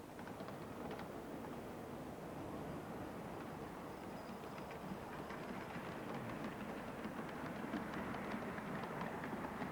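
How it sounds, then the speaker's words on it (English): A model railway breakdown train rolls through a station on a 1930s-style Midlands layout, a continuous even rumble and rattle held at steady loudness throughout, with no voices. "This breakdown train is just passing through the station"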